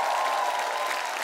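A studio audience on a Russian TV singing show gives thunderous applause, a dense, loud, steady wash of clapping from a large crowd.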